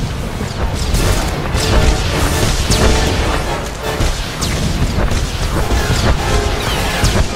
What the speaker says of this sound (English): here the droid is launching another missile barrage